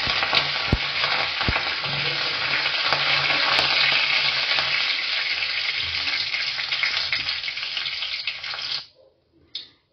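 Dried red chillies and mustard seeds fry in oil for masala dosa with a loud, close, continuous sizzle and crackle that runs for several seconds, then cuts off abruptly into near silence.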